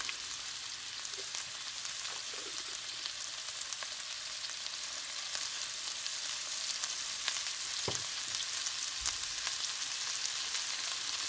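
Chopped onions sauté in a hot pan with a pinch of salt for chickpea chana masala, giving a steady, even sizzle and crackle throughout with no talking.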